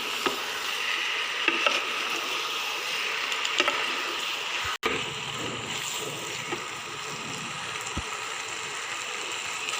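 Macaroni is stirred in a hot pan, a steady close sizzle and frying hiss running throughout with faint scraping strokes and one sharp knock partway through.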